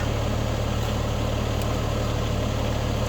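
A tractor engine drives a Tractor Supply County Line 3-point wood splitter, running at a steady moderate speed with a constant low drone and rumble from start to finish, close and loud.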